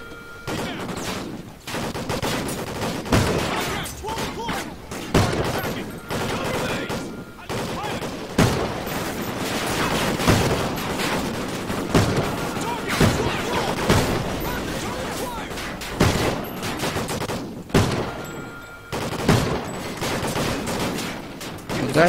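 Gunfire from a Call of Duty: Ghosts match crackles in dense, irregular bursts and single shots, loud and continuous, with occasional talk mixed in.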